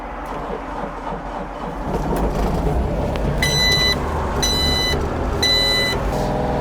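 A broken-fan-belt excavator engine starts and runs at a steady loud rumble, with repeated high warning beeps sounding in bursts toward the end.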